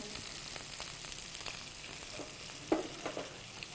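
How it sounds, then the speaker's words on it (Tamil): Carrots, beans, green peas and broad beans sautéing with sambar onions (shallots) in a pan, a steady low sizzle with a few soft stirring scrapes and one brief clink, alone without talk. "சாம்பார் வெங்காயம் வதங்கினதுக்கப்புறம் காய்கறிகள் நம்ம சேர்த்துக்கிறோம்."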